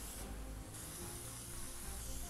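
Cocoa butter sprayed into a chilled Lego-shaped bonbon mold, heard as a steady close airy hiss with a brief shift in texture partway through, no voices.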